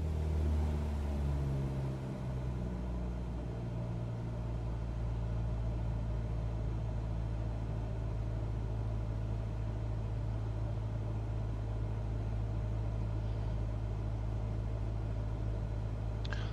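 Simulated aircraft engine in Microsoft Flight Simulator as the throttle is pulled back, a steady low droning hum that drops in pitch over the first few seconds and then holds evenly, with no talking.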